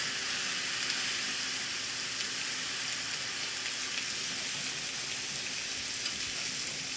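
Broth poured slowly into a hot pan to make gravy for Swedish meatballs, giving a steady, loud sizzle and bubbling hiss that runs unbroken throughout with no voices.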